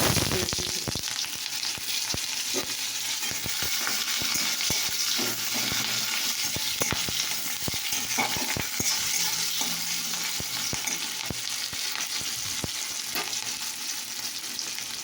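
Hot oil sizzles and crackles steadily in a kadai, with scattered sharp clinks of a utensil against the pan throughout.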